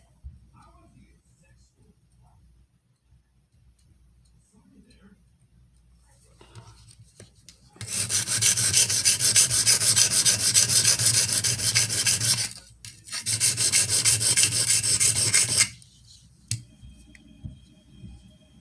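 A Benchmade 13940 knife blade is drawn across Sigma whetstones in two long bursts of close, rapid rasping strokes separated by a brief pause, with quiet speech before and after.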